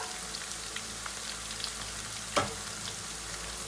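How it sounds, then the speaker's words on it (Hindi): Corn kernels deep frying in hot oil give a steady, faint sizzle and crackle, with a sharper pop about two-thirds through and no talking. "इसको तकरीबन 2 मिनट हो चुके हैं फ्राई होते हुए"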